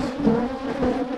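A steady insect buzz hums throughout, close and continuous, like several bees droning around a small nucleus colony hive, with slight swells in loudness.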